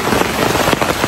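Steady rain pours down onto a hard surface, a dense, close, continuous patter with no voices.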